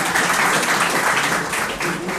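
Audience applause for a student speaker at a Youm-e-Takbeer college competition, a dense, steady wash of clapping that holds loud and even throughout with a slight dip near the end.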